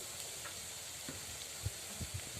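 Onion, green chili and garlic sautéing in a pan, a soft continuous sizzle with a few light stirring knocks, close and fairly quiet.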